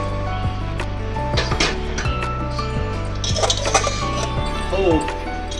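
A pressure cooker is lifted off a stove after cooking temple-style katte pongali, with a run of sharp metallic clinks and clatters close up over a steady low hum.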